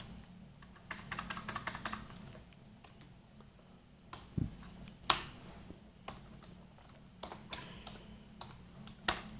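Typing on a computer keyboard while writing code: quick bursts of crisp keystrokes, a fast run early, then sparser taps and a few louder isolated clicks, close and alone.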